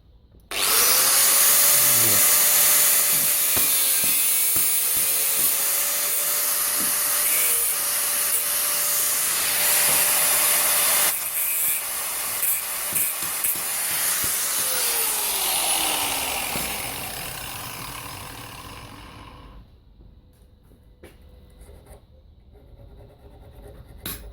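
An angle grinder with a disc trims and chamfers the edges of a steel hinge for medieval armour, a loud continuous whine and rasping grind that runs about nineteen seconds with a shifting motor pitch, then cuts off into quiet.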